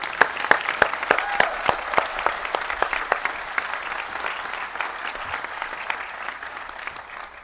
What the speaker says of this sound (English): can we give Greg another round of applause, please?